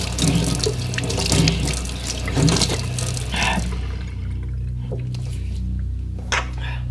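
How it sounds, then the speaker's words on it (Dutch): Tap water runs into a sink and is splashed onto a face, a close splashing and gushing stream with wet slaps, then the faucet keeps running more quietly. "Neem water in je gezicht."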